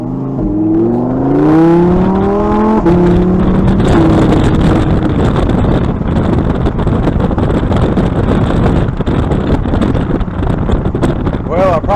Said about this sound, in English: take this 2022 Lamborghini Huracan EVO rear-wheel drive out on the road for a quick test drive